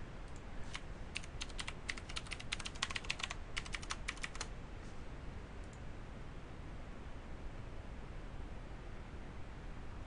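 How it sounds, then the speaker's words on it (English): Password being typed on a computer keyboard, a quick burst of close, crisp key clicks that stops after a few seconds, leaving faint room hiss. "I'm sure I typed that right that time"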